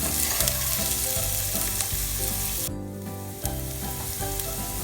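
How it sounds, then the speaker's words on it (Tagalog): Garlic, onion and celery are stir-fried in a pan, with a loud, continuous sizzle and an even rhythm of stirring scrapes. The sound briefly dips about midway. "Then, i-mix lang po natin siya for 1 minute."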